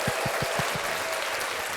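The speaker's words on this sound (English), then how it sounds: "Let's clap it up for Josh." Brief burst of applause and cheering for a man named Josh, clapping and a few whoops that fade quickly into a low room hum.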